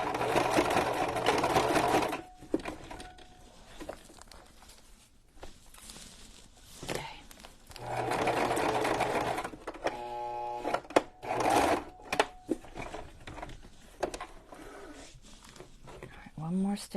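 Sewing machine stitching a fabric journal cover, running in several short close bursts of fast whirring clatter between pauses, with a person talking over and between the runs.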